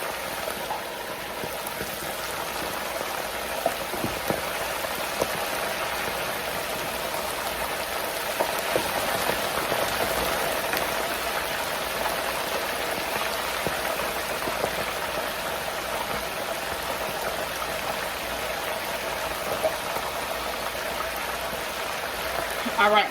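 Chicken wings deep frying in a pot of hot oil give off a dense, steady crackle and hiss, like heavy rain, continuous and close throughout with scattered louder pops.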